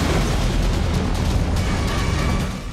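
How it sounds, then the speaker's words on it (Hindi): A Russian Kinzhal missile explosion in Kyiv: a loud, sustained roar of blast noise, thick with deep rumble, filling the whole stretch without pause. "कीव में जोरदार धमाका हुआ। यह रूस की किंजल मिसाइल थी।"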